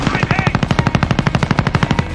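Machine gun fire in Call of Duty Warzone, a loud rapid burst of evenly spaced shots running continuously for about two seconds.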